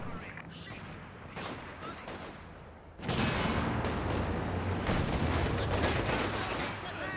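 Gunfire and mortar shots crackle in a Company of Heroes 2 multiplayer battle. Dense bursts of shots fill the mix, then grow suddenly louder and heavier partway through and keep going without a break.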